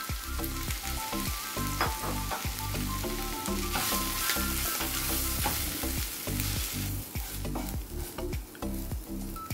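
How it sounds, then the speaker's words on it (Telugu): Capsicum sizzles and crackles in a hot pan while being stirred, with rhythmic scraping of a spatula against the pan over steady close frying noise and no talking. "క్యాప్సికము బాగా ఫ్రై అయిపోయిందండి."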